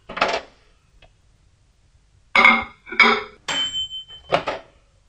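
A spoon clinks and scrapes against a bowl in a few short bursts as chocolate melts into milk warmed in a microwave, with quiet gaps between the strokes and no talking.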